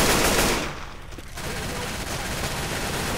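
Rapid automatic gunfire from the zombie shooter video game Left 4 Dead, a loud sustained burst that dips briefly and then continues as dense, continuous firing.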